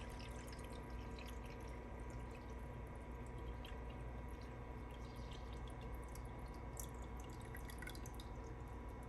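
Distilled water poured from a gallon jug into a cool mist humidifier tank gives a steady, continuous trickling and splashing flow, quiet and close, with no talk.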